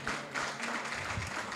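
Brief, moderately distant audience clapping at an aldermanic election runoff forum, a short patter of hands that fades quickly.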